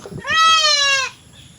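A single loud, nasal bleat from a sick goat, drawn out for nearly a second with a wavering tone, then fading into quiet background.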